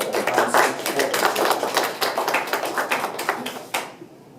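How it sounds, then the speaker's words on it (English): A small audience claps for two presenters at a talk on Tourette syndrome, distinct individual hand claps in an uneven patter that thins out and stops just before the end. "let's clap for Shane and Hans"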